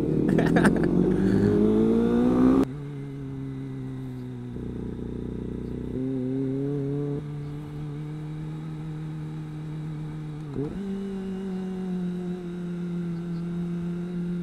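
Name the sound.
group of sport motorcycles revving loudly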